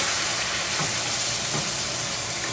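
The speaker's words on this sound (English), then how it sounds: "Love that sizzle." Canned sauce hits a hot pan for shrimp fra diavolo, giving a loud, steady sizzle that holds unbroken and fills the space.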